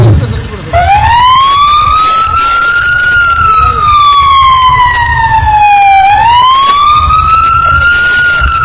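A fire engine siren at a Republic Day parade in Puducherry rises and falls in a slow wail, loud and close, ending with one full cycle and the start of another, with faint crowd noise underneath.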